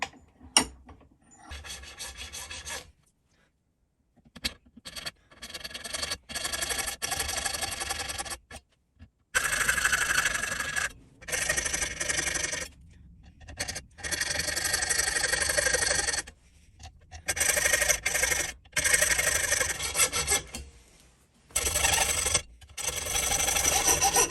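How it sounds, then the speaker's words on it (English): A file rasps against a wooden bulkhead for a low-profile plane, working it to a marked line in repeated bursts of scraping strokes, some short and some sustained, separated by silent pauses. "Now I just need to file as close to the line as I can get."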